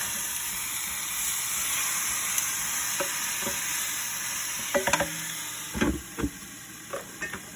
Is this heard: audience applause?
no